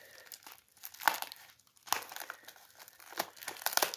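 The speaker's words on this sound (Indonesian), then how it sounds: "Ini kita unboxing dulu" Crinkling and tearing of a plastic seed packet as it is opened, a 10-gram pack of Santa 32 F1 hybrid red chili pepper seeds, in irregular close bursts with short quiet gaps between.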